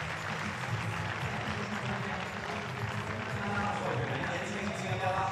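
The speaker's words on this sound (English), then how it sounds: "Crowd here in the stadium have all just started moving down towards the front, cheering on the home favourite" A stadium crowd at a climbing European Championship in Munich cheers on the home favourite, a dense, sustained roar of voices and scattered clapping that swells slightly toward the end.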